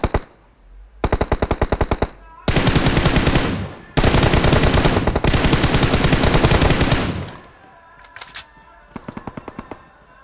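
Automatic gunfire in the battle royale game PUBG Mobile: loud, rapid bursts of machine-gun fire in several long stretches, with brief pauses and a few short bursts near the end.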